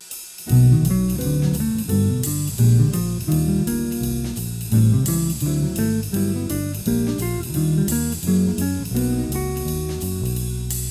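An electric guitar strums a sequence of simple root-position major and minor triads, each struck and left ringing in a steady rhythm, clear and close.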